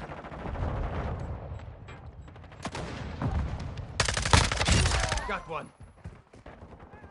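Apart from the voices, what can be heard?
gunfire in Call of Duty multiplayer (video game)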